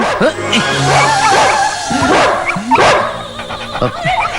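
A dog barks and yips repeatedly up close, with whimpering between the loud barks and some voices in the background.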